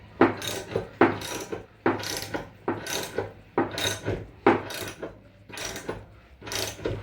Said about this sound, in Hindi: रैचेट हैंडल से हम इसको डायल करके 338 ले आएंगे